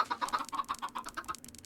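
Game chickens in TerraFirmaCraft, a Minecraft mod, cluck in a steady rapid series, around a dozen close, distinct pulses that fade slightly toward the end.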